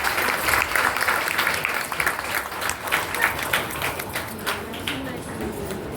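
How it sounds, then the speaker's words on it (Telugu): Loud, dense applause from a gathered crowd at an anniversary felicitation ceremony, a thick wash of overlapping claps that stays strong for several seconds before easing slightly. "గట్టిగా చప్పట్లు"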